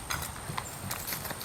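A horse's hooves trot in a steady two-beat clip-clop during a training session, moderately close with a soft background wash.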